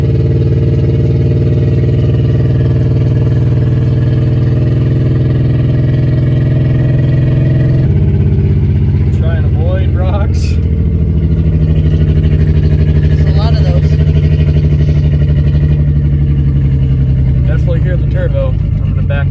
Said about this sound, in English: You can hear the turb ski a little bit.